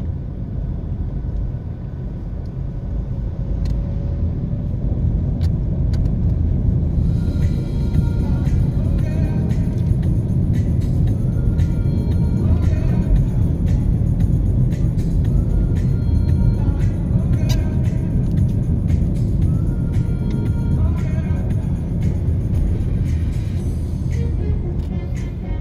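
Car driving through the Pembroke Hall community in Kingston, Jamaica, along Kenhill Drive, with a steady low engine and road rumble from inside the cabin, a faint rattle and clicking over it, and no talk.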